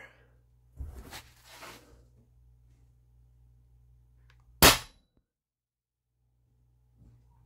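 Two sharp shots from an Umarex HDP Compact HPA air pistol, a softer pop early on and a louder crisp crack near the end, over a low steady hum.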